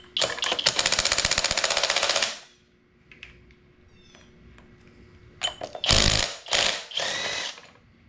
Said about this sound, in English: Try to get this flywheel off.